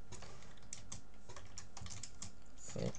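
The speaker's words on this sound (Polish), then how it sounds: "Będę ją pisał na klawiaturze, żeby było czytelniejsze." Steady typing on a computer keyboard, a quick run of distinct clicking keystrokes at close range with a few heavier taps near the end, no voices.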